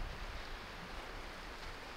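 Sea surf rolling onto a pebbly beach at Stinky Haven, a steady broadband wash of waves heard at moderate distance with some wind rumble on the microphone and no voices.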